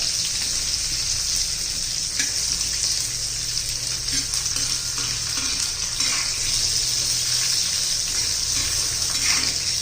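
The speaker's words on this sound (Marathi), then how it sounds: "मिरच्या चांगल्या परतून घ्यायच्या आहेत बघा, डाग पडेपर्यंत." Green chillies frying in hot oil in a pan give a loud, dense, continuous hiss and crackle that stays steady and close throughout, with no voices.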